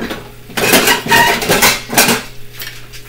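A lid being set and shifted on a pan of frying potatoes: a few clattering metallic knocks and scrapes in a short burst, loud and close, then settling back to a faint kitchen background.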